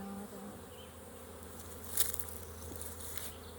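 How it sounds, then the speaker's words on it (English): Honey bees buzz steadily inside a packed nuc hive during an inspection, a dense, continuous close-up hum with a brief louder swell partway through. "It was packed full of bees"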